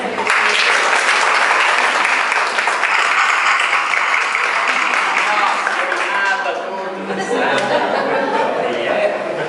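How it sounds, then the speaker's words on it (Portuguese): A studio audience applauds a guest named Ana Cristina on a talk show, with dense, steady clapping, some chuckles and chatter mixed in, loud and continuous before easing slightly near the end. "Palmas para a Ana Cristina"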